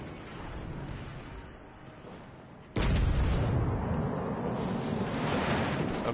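Warship main guns fire high-explosive shells in a naval battle game, a single sudden loud boom followed by a long heavy rumbling roar, after a quieter stretch of engine and sea ambience.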